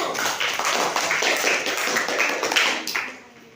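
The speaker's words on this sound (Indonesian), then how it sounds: "kasih tepuk tangan untuk kelompok 1" Classroom applause for a student group after its presentation: dense, steady clapping from many hands close by, fading out near the end.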